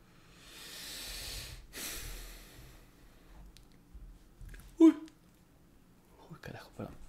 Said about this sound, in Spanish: Me dio el bostezo.